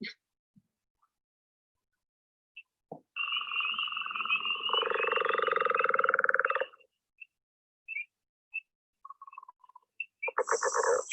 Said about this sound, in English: The leopard frog.